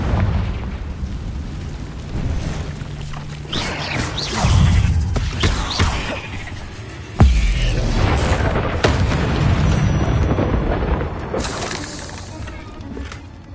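Confringo blasting spells in Hogwarts Legacy set off repeated loud booms and crashing, shattering explosions, one especially sharp burst in the middle, over a continuous rumble of game sound.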